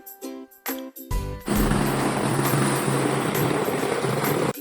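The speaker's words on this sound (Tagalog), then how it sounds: "now we are in the helicopter, awaiting to fly" A helicopter sits waiting to take off in Skagway, Alaska, for a glacier tour, its engine and rotor wash making a loud, steady broadband drone that starts abruptly after a few seconds of soft chiming tones.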